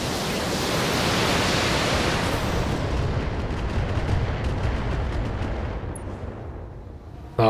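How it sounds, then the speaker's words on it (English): A full salvo of missiles fires in the Battletech video game, a dense roaring wash of launches and blasts that stays loud and then slowly thins out. "Firing full salvo."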